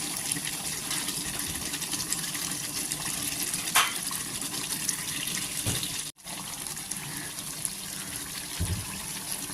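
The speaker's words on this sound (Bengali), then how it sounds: "এখানে মশলা ধোয়ার জলটাই আমি দিয়ে দেব।" Water pours into mutton curry cooking with potatoes, the spice-washing water added to the pot in a steady gushing stream with a brief splash near the middle and a short gap.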